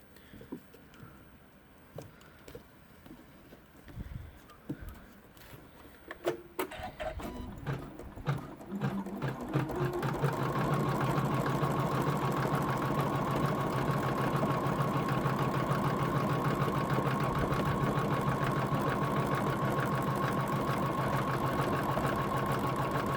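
An embroidery machine stitching an in-the-hoop zippered pouch, starting with a few scattered clicks and short bursts, then running into a steady, fast, close mechanical rattle of needle strokes that continues without talk.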